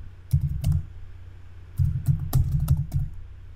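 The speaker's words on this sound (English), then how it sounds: "Here I'm going to type," Typing on a computer keyboard, close up: two short bursts of quick key taps separated by a pause of about a second, the second burst longer and ending in a firmer click.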